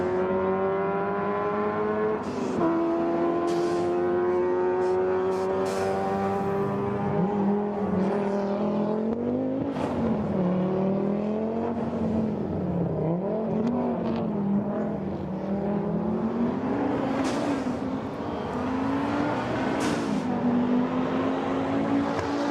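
An Audi rally car engine revs hard and holds high, its pitch climbing and dipping through repeated gear changes, with sharp wastegate chatters and pops cutting in over a steady, loud roar.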